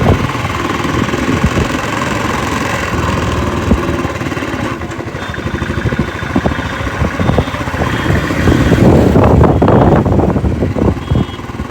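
A motorcycle engine runs loud and close while riding, with a continuous rumbling drone that swells and dips, rising to a stronger roar near the end.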